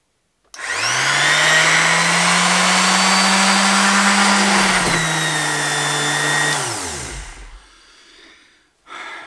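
A cheap eccentric orbital sander runs loud and steady with a high whine for about six seconds, then spins down, and a brief burst follows at the end; no one speaks.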